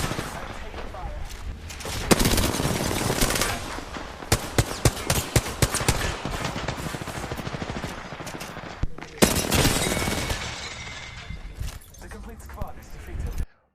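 Automatic gunfire from R9 and G7 weapons in the Apex Legends video game, during a squad fight in a tight tunnel, crackles in dense, repeated bursts of varying loudness. People talk throughout.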